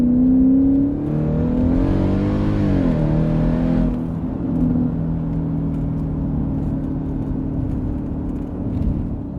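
A 670 bhp Jaguar XFR-S revs up loudly from inside the back seat, its engine note climbing and dipping, then settling into a steady, droning cruise.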